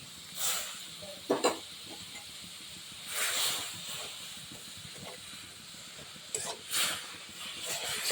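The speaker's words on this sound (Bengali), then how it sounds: "কড়াইতে একটু জল দিয়ে দিয়েছি এবার আমি আখের গুড় দিয়ে দিচ্ছি" Sugarcane jaggery heating in a little water in a wok for semolina modak, with soft bubbling under several short bursts of close hissing steam and no one speaking.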